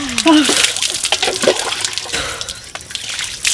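Water is poured and splashes during a bath, in uneven gushes and trickles close by, under ongoing voices.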